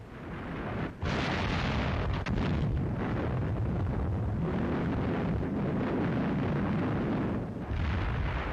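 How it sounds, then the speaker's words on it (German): Artillery fire and explosions from WWII German wartime footage of an attack on the Soviet front, a dense, continuous barrage of loud low rumbling booms and blasts with no clear gaps. "Artillerie unterstützt den Angriff unserer Grenadiere und Panzer durch gut liegendes Wirkungsfeuer."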